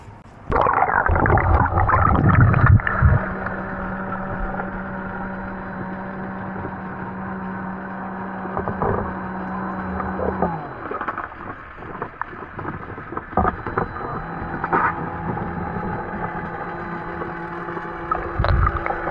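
A robotic pool vacuum cleaner for above-ground and in-ground pools runs in the water with a steady low mechanical hum and droning tone, broken by bumps, clunks and shifting motor pitch as it moves around the pool.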